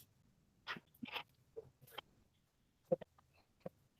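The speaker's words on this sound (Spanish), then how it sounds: "un perito estaba de ladrar ahí afuera y no me deja concentrar" Dog barking outdoors during a home study session, a few faint, distant, scattered barks and yelps spread over several seconds with quiet pauses between them.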